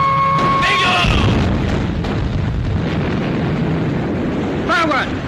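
Torpedo explosions blowing up a transport ship in a 1942 wartime naval film, a loud heavy boom rumbling under continuous background noise, with whistle-like tones at the start and end.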